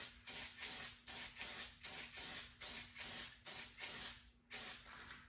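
Plasti Dip sprayed from an aerosol can onto a Jeep emblem in a series of about ten short hissing bursts, each roughly a third of a second, with a steady rhythm and brief gaps between, close and fairly quiet.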